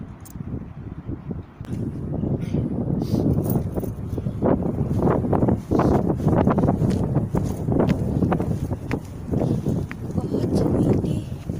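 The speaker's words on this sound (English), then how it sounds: "Oh, it's windy." Strong wind buffets around a building, a loud, continuous low roar with gusty surges and rumbling microphone buffeting throughout.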